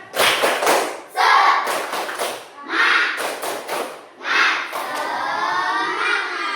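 A school class claps and shouts a rhythmic 'tepuk semangat' spirit chant, with loud bursts of unison clapping and children's voices chanting in short phrases separated by brief pauses.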